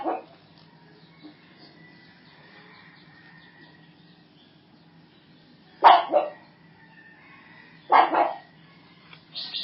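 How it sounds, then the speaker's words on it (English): Dogs at a monastery bark in a few sharp, separated bursts at mid distance: one at the start, then a double bark and another pair later, over a quiet background. "If the dogs don't like people, they bark."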